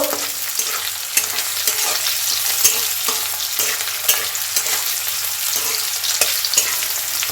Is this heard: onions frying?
yes